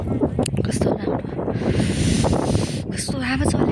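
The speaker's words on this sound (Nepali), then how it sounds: "कस्तो हावा चल्यो" Wind gusts buffet the microphone in a hillside village at a tourist viewpoint, a steady rumbling roar with voices talking over it.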